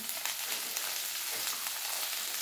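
Onion frying in a pan with coriander seeds for a green chilli kharda, giving a soft, continuous crackling sizzle at low volume, close by, with no talking.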